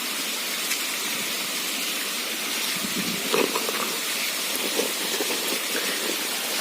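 Small gold ore rocks grind under a rubbing hand in a plate, a steady close rasping hiss with a few brief sharper scrapes midway, no voices.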